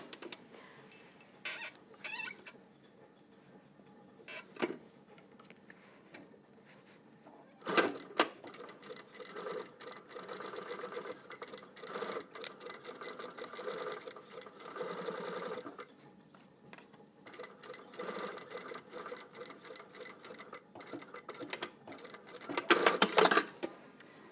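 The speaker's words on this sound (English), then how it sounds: "So I'm going to stitch along here, and then I'm going to stitch here up the top." A sewing machine stitches a single jet pocket on trousers, running in several rapid whirring bursts of needle rattle separated by pauses, close and moderately loud.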